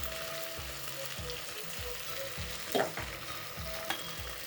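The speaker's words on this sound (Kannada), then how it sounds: "ಈಗ ಇಲ್ಲಿ ಕಸ್ತೂರಿ ಮೇಥಿ ಹಾಕ್ತಾಯಿದ್ದೀನಿ ಸ್ವಲ್ಪ" Kasuri methi and whole spices sizzle in a hot pan with ginger and garlic, a soft continuous crackle with rhythmic scraping stir strokes and a couple of sharper clinks, close but fairly quiet, no talking.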